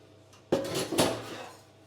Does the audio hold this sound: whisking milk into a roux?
yes